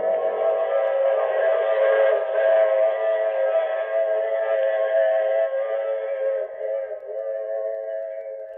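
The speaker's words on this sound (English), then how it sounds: "I take this same train every week at this same time." A steam-style train whistle from a 1950 radio drama sound effect gives one long, sustained, chord-like blast. It is loud and close but sounds thin and muffled, as on an old broadcast, then slowly fades near the end.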